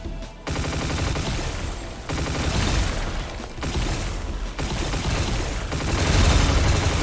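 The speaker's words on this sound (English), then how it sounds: "Alright, freeze rifle got new sounds." Freeze rifle from the God Complex mod for Doom firing in rapid sustained bursts, dense crackling blasts with brief gaps between volleys, loud and close throughout.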